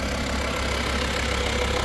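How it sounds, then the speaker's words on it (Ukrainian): A 2006 Volkswagen Touareg with a 2.5 diesel engine idles with the bonnet open, giving a steady, even, close diesel rumble with no voices. "Будь ласка мурчить наш дизельочок."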